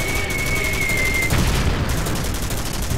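Machine gun fire in Commandos Strike Force, a World War II video game: a loud, steady rapid stream of shots with a booming impact partway through, heard over constant battle noise.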